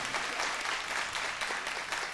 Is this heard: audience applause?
yes